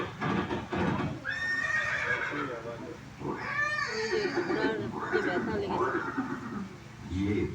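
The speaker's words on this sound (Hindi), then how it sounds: "ये दृश्य महाराणा प्रताप और सुविख्यात स्वामी भक्त घोड़े चेतक के अंतिम मिलन का है।" A horse whinnies in several long, loud calls amid clopping hooves in a staged historical scene of Maharana Pratap and his horse Chetak, with voices and other sounds mixed beneath.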